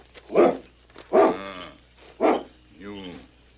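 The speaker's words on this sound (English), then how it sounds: "That dog is perfectly tame." A dog gives four loud, close barks spaced about a second apart, and the last one trails into a whining yelp. There is no other background sound.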